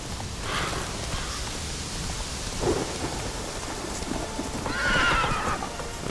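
Roach, the horse in The Witcher 3 on Skellige, gives a couple of brief snorts or whinnies over a steady wash of rain and distant rumbling thunder, with no talking.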